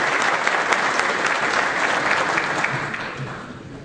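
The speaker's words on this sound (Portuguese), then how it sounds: "Senhoras e senhores, uma salva de palmas pela assinatura desses dois acordos de comemoração." An audience at a coffee agribusiness symposium opening applauds the signing of two agreements, a dense burst of clapping that stays loud and close before tapering slightly toward the end, no speech over it.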